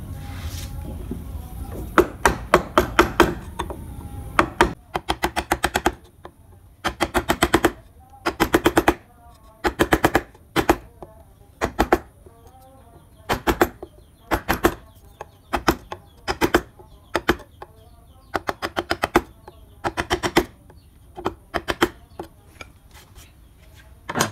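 A wood-carving chisel is struck repeatedly against wood, producing sharp, close taps in quick bursts and irregular clusters that continue throughout, with faint background noise between strikes.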